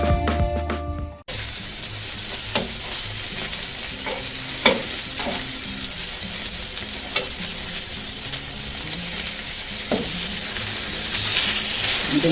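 Beer-marinated picanha sears on a hot griddle, giving a steady, loud sizzle and crackle with scattered sharp pops, heard alone without talk.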